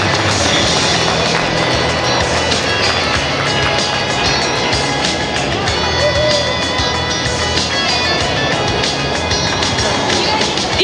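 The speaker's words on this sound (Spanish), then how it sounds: "un fuerte aplauso para ella." Applause for the carnival queen and her attendants at the Carnaval del Toro 2024 on Domingo de Piñata: a steady, loud wash of crowd clapping and cheering outdoors, unbroken for about eleven seconds.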